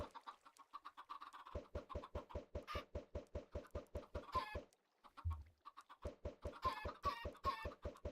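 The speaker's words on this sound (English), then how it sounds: "I just fill this room with baby chickens" Baby chickens cluck in the Minecraft video game, a steady stream of short, regular peeps repeating in a rapid pulse, loud and close, with a brief pause midway.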